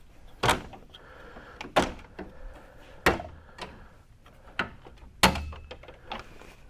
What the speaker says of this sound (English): gently but firmly start pulling out on the grill. It's clipped in there.